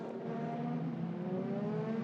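Racing cars circle the Silverstone circuit under a safety car period, a faint, steady engine drone from a distance with a slowly rising pitch and no voices over it.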